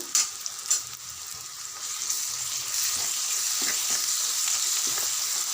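Ginger garlic paste frying in a pan for chicken curry, a steady close sizzle that thickens and holds, with a couple of soft stirring knocks near the start and no talking.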